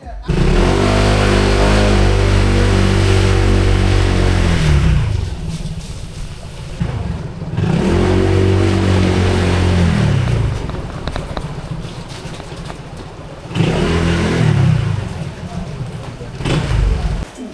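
A motorcycle engine on a street in Binondo runs nearby and revs hard three times, each rev rising and falling before settling back to a rough idle; voices may be faintly present.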